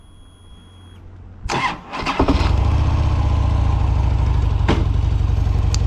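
A custom motorcycle engine cranks with a few short bursts, catches and fires, then settles into a steady, throbbing idle close by with no talk over it.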